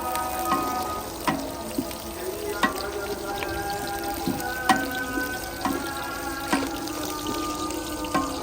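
Cumin seeds fry in hot oil for a tempering. A close, continuous crackling sizzle is punctuated by regular sharp clinks roughly once a second.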